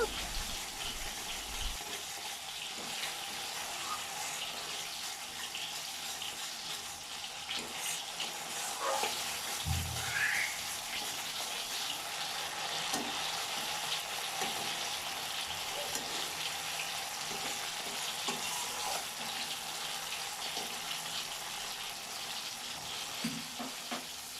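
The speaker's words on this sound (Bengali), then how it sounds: "এবার মশলাটাকে ভালো করে মিক্স করে নেব" A spice paste for Bengali rui posto fries and is stirred in a pan, making a low, steady sizzle with occasional scrapes and clinks, close but quiet throughout.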